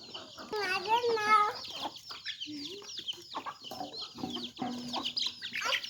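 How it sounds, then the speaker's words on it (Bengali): Several backyard hens cluck and squawk close by in irregular bursts, with a voice talking quietly in the background. "এখন আরও অনেকগুলো মুরগি, 5-6টা কুচে বসছে।"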